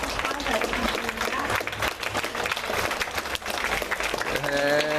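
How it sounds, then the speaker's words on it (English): A crowd applauds cheerleaders at an awards event, steady clapping throughout with voices mixed in, and a tonal music or cheer sound rising near the end. "So if I can have all of you guys stand up and give them a round of applause"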